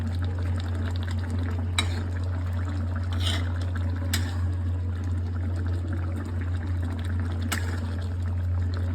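Katla fish curry with cumin powder stirred in a pan: soft scraping and a low sizzle over a steady hum, with a few sharp utensil clicks.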